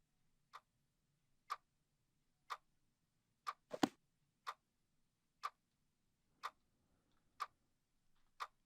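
A clock ticks steadily in the horror RPG game Pedestal, with crisp, evenly spaced ticks about once per second and a single heavier knock or strike sounding midway through the quiet room tone.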